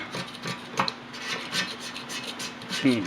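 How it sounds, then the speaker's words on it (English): A blade scraping chunks of old silicone sealant off a metal transmission pan from a Toyota 3.4 L 5VZ-FE, heard as close, repeated raspy strokes with a brighter scrape near the end. "I'll just take your blade and just kind of gently scrape"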